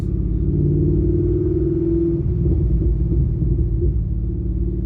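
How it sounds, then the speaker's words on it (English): Car exhaust fitted with a Vararam VR-B2 intake rumbling loud and close on deceleration, a steady low drone with uneven popping burble texture through the second half. "the decel burbles are noticeably more aggressive"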